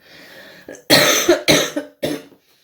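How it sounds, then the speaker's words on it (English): Several harsh coughs in quick succession, loud and close, after a brief low breathy sound. "I always seem to get a bit of a cough at the end of it"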